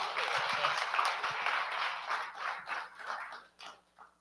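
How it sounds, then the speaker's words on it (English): An audience gives a round of applause for Chief Jon Thum, a moderate wash of clapping that thins into scattered separate claps before fading out. "Round of applause for Chief Thum."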